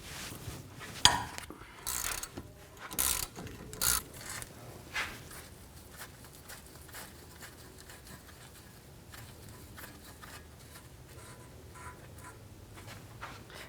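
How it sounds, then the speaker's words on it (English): A ratchet turning a 22mm socket works a nut loose on the front suspension of a 2007-2014 GMC Sierra 3500 HD, giving a few faint clicking bursts early on before the sound fades to quiet background. "Now take a 22mm socket, remove this nut."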